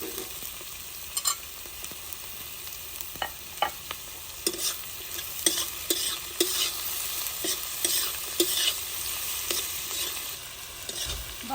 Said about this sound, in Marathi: त्याच्यात आता शिमला टाकून घेऊ शिमल्यानंतर लगेच टमाटे